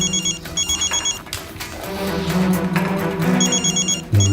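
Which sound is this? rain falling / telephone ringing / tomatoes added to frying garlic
telephone ringing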